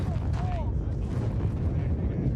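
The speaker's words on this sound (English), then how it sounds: "That's one hell of an airstrike you had the LT call in." Airstrike bombs exploding in a Generation Kill war drama scene, heard as continuous heavy low rumbling booms that stay loud across the whole stretch, with a brief whistling tone near the start.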